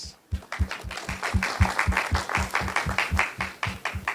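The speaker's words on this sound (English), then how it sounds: "Big round of applause." An audience at a pharmaceutical industry session claps in a regular, rhythmic unison beat, about three to four claps per second. The sound is close and moderately loud and carries on steadily for several seconds.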